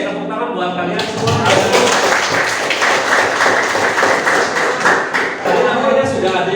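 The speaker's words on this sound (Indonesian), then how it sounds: "Oke, tepuk tangan buat kalian semua." Students in a classroom clap for their classmates, a dense burst of applause that rises after a brief pause and continues steadily, with some voices mixed in.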